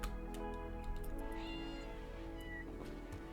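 Cats meow in the colony-building game RimWorld. Several drawn-out, wavering meows rise over a dense, steady background of game sound and music, lasting a few seconds.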